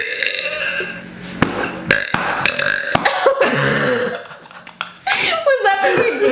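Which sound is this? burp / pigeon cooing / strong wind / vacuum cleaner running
burp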